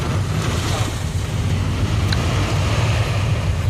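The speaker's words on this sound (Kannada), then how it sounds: "ಜೋರಾಗೆ ಹೋಯ್ತಿದೆ ಮಳೆ ಮಾತ್ರ." Heavy rain pours near Bangalore City railway station in the evening, a loud, continuous broadband hiss and roar that holds steady throughout with no talk.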